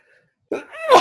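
A single sharp sneeze, close and loud, bursting out after a brief silence.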